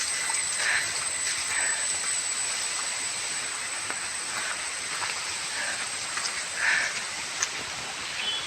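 Rain falls on the misty Thamarassery mountain pass with a soft, continuous patter, a few louder drops standing out and no voices.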